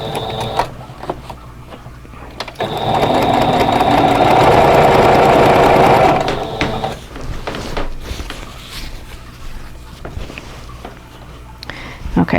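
A sewing machine stitches down quilt binding in a steady mechanical whir for about three seconds, with a voice talking before and after and handling clatter around it.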